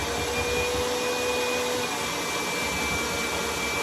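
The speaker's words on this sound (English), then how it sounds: "I actually am gonna use my mixer, so it will be very nice and fluffy" An electric mixer beats egg yolks for ladyfinger biscuits with a loud, constant whirring drone and a faint high whine, running unbroken without speech.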